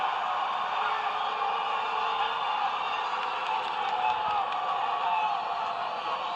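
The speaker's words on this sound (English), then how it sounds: "There's a lot of booing happening in here right now." A packed gym crowd at a girls basketball tournament keeps up a steady, loud roar of booing and shouting that fills the whole stretch without a break.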